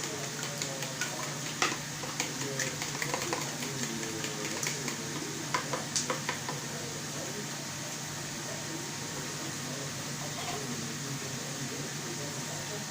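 Eggs seasoned with salt and pepper are beaten in a bowl, giving rapid, irregular utensil clicks that are busiest in the first seven seconds over a steady kitchen hum.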